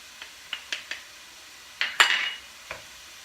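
Finely chopped onion and garlic tipped into a frying pan give a few sharp utensil taps and clinks, followed by a brief burst of hissing sizzle and one last knock, all close and with no talking.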